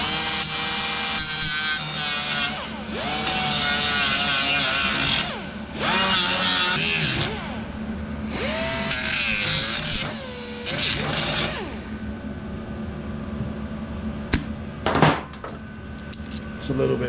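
Belt sander grinding down a metal headlight shell on a Royal Enfield motorcycle, a loud steady abrasive whine that rises and falls in pitch as the metal is pressed on in repeated passes, then cuts out near the end.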